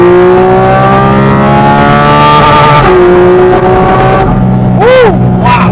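A Porsche Cayman GT4 RS engine screams loudly up toward 9000 rpm on an open road, rising in pitch in long pulls, dropping on shifts, then giving two sharp blips near the end.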